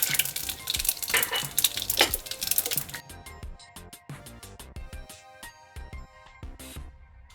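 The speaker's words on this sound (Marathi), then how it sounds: "थोडे फ्राय करून घ्यायचे शेंगदाणे" Peanuts fry in hot oil with mustard seeds and cumin in a pan, a busy crackling sizzle with sharp pops that thin out into scattered crackles, close and without talk.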